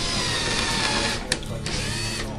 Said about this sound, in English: Get a drill, get your guide holes going.